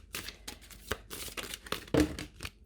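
A deck of tarot cards shuffled by hand, heard as a run of quick, crisp riffles and soft slaps in irregular bursts, close and alone with no talking.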